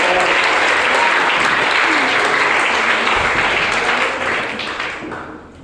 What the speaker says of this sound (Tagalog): Kamang palakpak sa Ginoo mga ison.